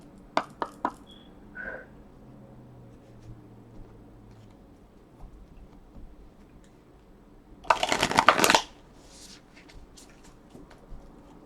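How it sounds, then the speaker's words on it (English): A quick burst of card shuffling, a dense riffling flutter lasting about a second, with a few light taps and handling sounds earlier in a quiet room. "Do like 1 more shuffle, actually."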